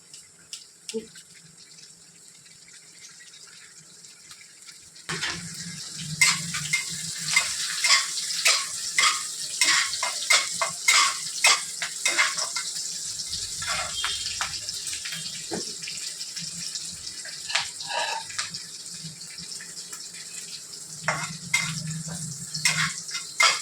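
Green chillies and ginger are stir-fried in a pan for crispy chilli chicken. After a quiet start, a loud, steady sizzle breaks out, with repeated scraping and clinks of the spatula stirring close by. No one speaks.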